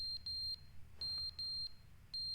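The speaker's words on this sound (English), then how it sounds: "Oh god, the fire alarm." A fire alarm in The Stanley Parable sounds a series of shrill, high electronic beeps in short bursts with brief gaps between them, loud and alone.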